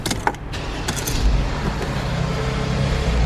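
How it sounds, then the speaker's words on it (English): A 2017 Mercedes-Benz GLE 350 4MATIC starting up: a few clicks and a brief whirring crank, then the engine settles into a low, steady rumble inside the cabin. "Just go ahead and start the vehicle up."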